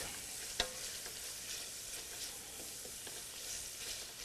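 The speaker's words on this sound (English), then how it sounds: "I'm going to add the garlic now. Again, 2 tablespoons of crushed garlic." Two tablespoons of crushed garlic hit a preheated pan on medium-low heat and fry with a steady, soft sizzle while being stirred, one brief clink near the start, quiet and close.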